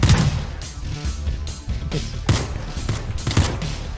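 Gunfire in a Minecraft battle royale match, a rapid cluster of sharp bursts and cracks spread over a few seconds at moderate loudness, no voices.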